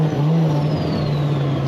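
A modified turbocharged car engine with a deep muffler note, revving loud and close in a steady, brief roar.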